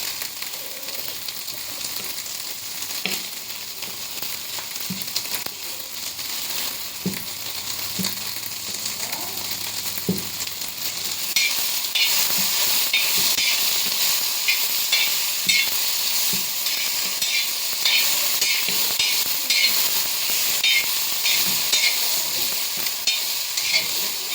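Tempering sizzles in hot oil for a home dinner in North Karnataka, a continuous frying hiss with scattered stirring clicks and scrapes, growing louder and busier partway through, close and steady.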